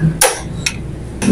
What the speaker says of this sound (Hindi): चोट लगाने का फायदा ये होता है ये आसानी खुलते हैं।